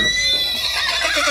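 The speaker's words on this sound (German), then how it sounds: "Und ja, das ist ein Pferd." A single horse whinnies loudly and close for a brief moment, the high, wavering call filling the short stretch alone with no talk around it.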